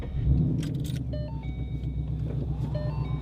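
A red-keyed Ford Mustang Boss 302 with a revised 5-liter V8 Coyote engine starts up, a deep low rumble settling into a steady idle close by, with a brief jangle of keys and faint chimes early on.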